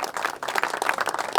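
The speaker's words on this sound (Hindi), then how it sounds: "इन सब को मैं आपकी तरफ से एक दफ़ा फिर भरपूर तालियों की गूंज में इनको वेलकम और खुशामदीद कहना चाहते हैं।" An audience gathered to welcome guests visiting Hanumangarh applauds in a dense, steady wash of many hands clapping at once, sounding fairly close.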